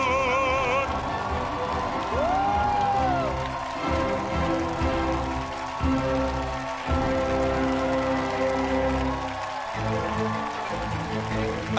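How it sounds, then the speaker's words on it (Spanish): A talent-show audience in Chile rises in a standing ovation, with sustained applause and cheering that fill the hall over music, and a presenter speaks over the crowd. "ovación, el público de pie para el gran Arturo Espinosa"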